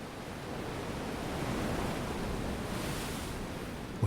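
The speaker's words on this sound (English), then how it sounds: "Ocean waves." Ocean waves wash steadily onto a beach, a broad continuous roar of surf that swells slightly midway and holds at a moderate level, with no voices present.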